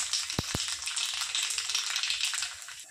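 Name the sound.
nigella seeds sizzling in hot oil for fish chorchori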